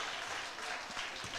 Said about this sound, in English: a round of applause there for Lady Rams